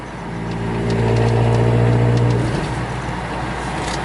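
A car engine pulls hard at low revs just after a rough shift into fourth gear, making a loud, close droning hum that swells and then eases slightly as the car keeps moving.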